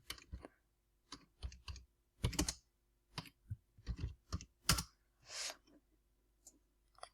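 Keystrokes on a computer keyboard entering a web address, a string of crisp separate clicks in uneven bursts, close and quiet with short pauses between.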